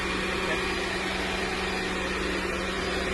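A 2001 Mercedes E320 engine runs steadily just after an oil change, a loud constant hum and drone with a low tonal buzz, close and continuous for a few seconds.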